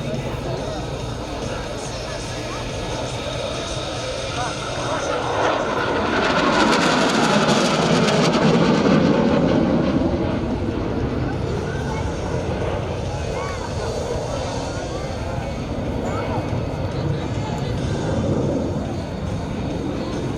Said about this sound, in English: you see the aircraft coming in with a traditional low pass.